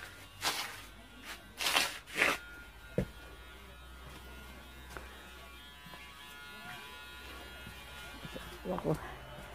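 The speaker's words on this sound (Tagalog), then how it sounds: "Ah, nag-aahit." An electric shaver in use during a home shave, a faint steady buzz under room noise, broken by a few louder scraping bursts near the start and end.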